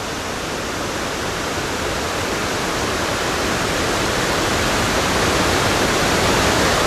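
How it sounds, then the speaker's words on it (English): Steady rushing water of a small waterfall on the Tellico River pours continuously over rocks, a broad unbroken roar with no voices. "really nice waterfall"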